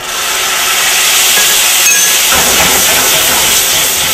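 Pasta oil hitting a hot pan gives a loud, steady broadband hiss that carries on without a break, with no voices over it.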